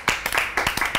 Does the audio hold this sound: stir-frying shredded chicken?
no